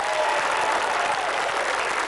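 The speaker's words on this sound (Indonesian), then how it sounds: "Tepuk tangan dong." Studio audience applauding at a TV family game show, a steady dense wash of clapping that holds at an even level from start to finish without a break.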